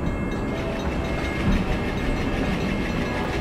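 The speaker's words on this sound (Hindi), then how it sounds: "WDM इंजन की आवाज़ यहाँ पे आ रही है एल्को की" Twin ALCO WDM diesel locomotives in an Indian train simulator game rumble past, a loud, steady engine drone with a continuous rolling rail sound.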